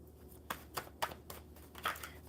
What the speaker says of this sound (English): I shuffle till we get three.